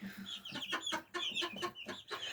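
Japanese bantams and Silkie chickens cluck in a steady run of short, close calls in an uneven rhythm, with no talking.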